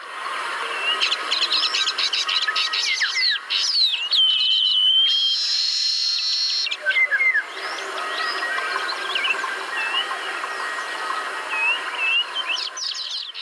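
Baya weaver birds in Kumaon call in a dense, continuous chorus of close, loud chirps, whistles and trills, with many overlapping voices and no talking.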